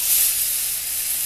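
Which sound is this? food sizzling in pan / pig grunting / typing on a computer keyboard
food sizzling in pan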